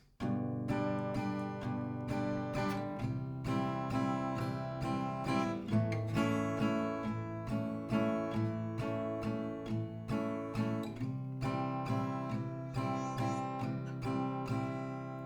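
Steady strummed acoustic guitar chords, bright and full, with a regular rhythmic pulse of strokes and occasional chord changes, no voices.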